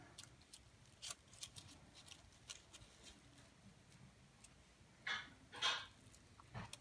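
Scissors snipping crepe paper for rosettes, a few quiet, crisp cuts spaced out in a hushed room, with two louder snips near the end.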